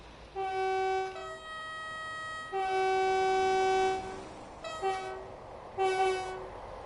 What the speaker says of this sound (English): That horn sounds a bit synthy.